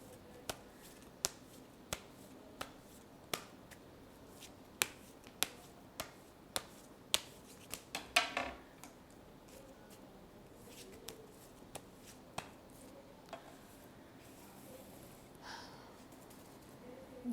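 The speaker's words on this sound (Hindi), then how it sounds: "इसको मैं अच्छी तरीके से शफल कर लूँ" Tarot cards being shuffled by hand, a series of sharp, crisp snaps at a steady pace followed by a brief riffling flurry, then quieter scattered taps, close and soft.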